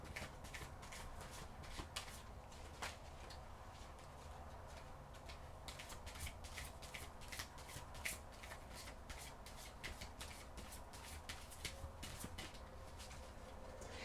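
Tarot cards are shuffled in a quiet room, a soft run of papery riffles and clicks repeating steadily and faintly throughout.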